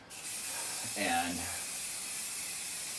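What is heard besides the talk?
spray adhesive being sprayed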